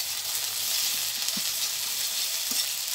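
Garlic paste fries with onions in a pan, giving a steady, close hiss of sizzling oil broken by a few soft clunks from stirring.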